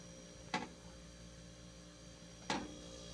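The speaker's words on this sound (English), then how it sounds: "That's the sound you want to hear, that your freezer is actually working the right way." A Haier freezer running after repair gives off a faint, steady electrical hum with tonal whine, broken by two sharp ticks about two seconds apart.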